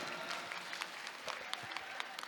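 Applause from a crowd at a Saraswati Puja cultural program, a dense patter of clapping heard somewhat faintly and at a distance.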